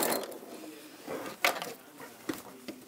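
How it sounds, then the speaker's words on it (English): Hand wheel of an Elna sewing machine being turned by hand over a thick layer of fabric, giving soft mechanical clicks and ticks with a few sharper knocks, fairly quiet and close, with no speech. "So I'm turning the hand wheel towards me."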